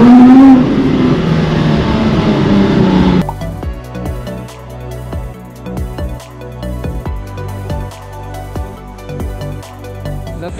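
A Porsche 997.2 GT3 with the 3.8-litre Mezger engine revs loudly and close for about three seconds, then cuts off abruptly to a quieter, clicking background.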